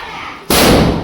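A large firecracker explodes under cardboard stuffed with paper: one sudden, loud, close blast that cuts through the quiet and leaves a dense roar of rushing debris for the rest of the moment.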